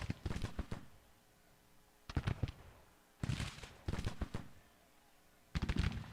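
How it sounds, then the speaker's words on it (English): Distant volleys of cannon and rifle fire in Grand Tactician: The Civil War, faint irregular clusters of crackling shots and booms separated by brief quiet stretches, heard from afar. "They've got some artillery firing on our detachment of Logan's cavalry up here in the north"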